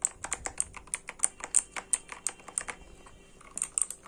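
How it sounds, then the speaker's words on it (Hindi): Close, crisp clacking of keys typed on a Quantum mechanical keyboard, a budget model priced at Rs 1499, in quick irregular bursts with a short pause near the end. "सो गाइज ये कीबोर्ड, आवाज मैंने सुनाई दी थी।"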